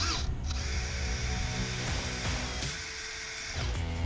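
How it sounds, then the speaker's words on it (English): A drill boring out the center of a snapped bolt stuck in its hole, a loud, close, continuous motor whine with a rough grinding edge that shifts in pitch as the bit bites, no voices. "I've also started drilling out the center of that bolt that is still in the hole"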